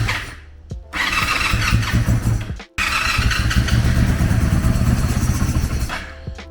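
A Honda engine with an old-fuel carburetor fires up on starter fluid, sputtering briefly, cutting out for a moment, then catching again and running steadily and loudly before dropping off at the end.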